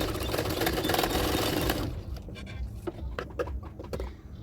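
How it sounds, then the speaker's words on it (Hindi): A sewing machine stitches extra fabric onto a blouse, a fast, loud, even mechanical chatter for about two seconds before stopping. Softer scattered clicks and handling sounds follow. "उसको इसी तरह से फोल्ड करते हुए मैं एक सिलाई डाल दूँगी।"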